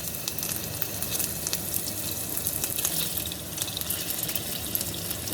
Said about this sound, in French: je vais frire la petite boulette de viande pour goûter le sel